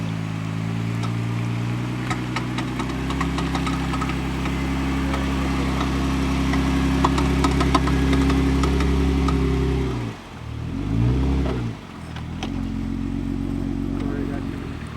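Jeep engines idling and revving on a beach after being pulled out of ocean water at a flooded camp, a loud steady rumble with a dip and brief rev surge near the end.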